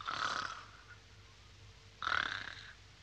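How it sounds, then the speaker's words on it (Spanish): A tired boy sleeping in a mountain setting snores twice, each a drawn-out, rasping inhale about two seconds apart, fairly close and with no talk over it. "¡Cómo ronca!"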